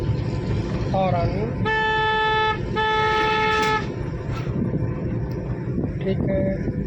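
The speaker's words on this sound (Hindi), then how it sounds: "हॉर्न" Car horn honks twice in sustained blasts from a vehicle on the road during a driving lesson, loud over engine and traffic rumble, with an instructor's voice talking around them.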